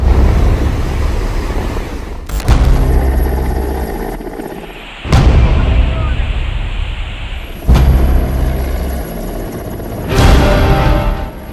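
An Air Force Mi-17 helicopter during a flood rescue, its loud rotor roar and heavy rumble swelling and cutting in repeated bursts of several seconds each.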